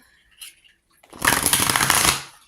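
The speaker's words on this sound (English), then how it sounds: "I'm being asked to shuffle some more." A brief soft rustle, then a dense riffling burst of tarot cards being shuffled, close and crisp, lasting about a second.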